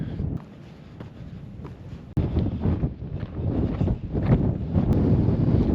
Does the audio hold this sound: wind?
yes